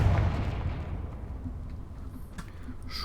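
A Confringo blasting spell in a video game sets off a deep, rumbling explosion that booms at the start and then fades into a long low decay with small crackles.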